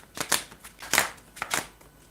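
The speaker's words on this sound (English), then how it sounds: "They open the cards like this and they shuffle them." Tarot cards are shuffled by hand in a few quick riffling bursts, each a crisp papery flutter, close and distinct with brief pauses between.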